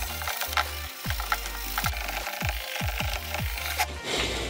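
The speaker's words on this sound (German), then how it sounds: "Jetzt kommt der hässliche Teil der Arbeit, wir müssen schleifen." Rhythmic back-and-forth strokes of 800-grit sandpaper scuff across a yellowed plastic headlight lens from a BMW E53 or E39, close and fairly quiet, each pass a short rasp in a steady working rhythm.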